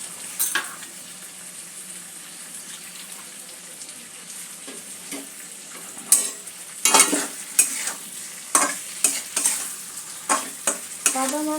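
A utensil stirs cauliflower curry with nut and poppy seed paste frying in a pan, giving a steady low sizzle and a string of sharp scraping strokes in a loose rhythm, close and without talk.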